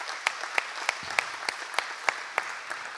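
Applause from an audience at a voting-rights event, sparse individual claps ringing out at a regular pace over a light background wash, fairly clear and close.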